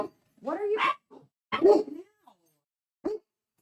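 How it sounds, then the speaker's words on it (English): Worked-up dogs bark and whimper indoors in short, separate bursts and yips with pauses between them. "Dogs are all worked up."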